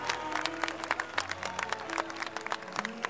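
Audience applause for a guitarist at a band show, a moderate, fairly distant patter of clapping with individual claps distinct, mixed with low sustained instrument tones.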